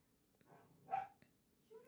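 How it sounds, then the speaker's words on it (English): A few faint dog barks and yips from downstairs, short separate bursts at a distance over low background hum. "dogs are playing downstairs"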